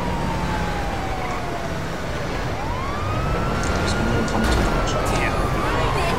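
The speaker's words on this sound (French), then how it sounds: "Donc, vous avez plusieurs sirènes, vous avez celle-là et celle-là." Police car sirens in GTA V with the LSPD:FR mod wail in long rising and falling sweeps, with a second siren tone joining partway through over a car engine rumble, while someone talks throughout.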